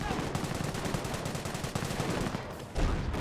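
Dense infantry gunfire from a Company of Heroes battle, rifle and machine-gun bursts crackling in rapid overlapping volleys, steady and loud throughout with a heavier thump near the end.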